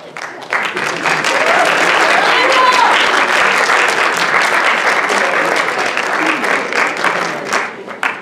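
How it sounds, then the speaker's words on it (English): A lecture hall audience applauds a panel, a full, steady burst of clapping that swells quickly, holds for several seconds and tapers near the end. "I was about to ask to give our panel a round of applause"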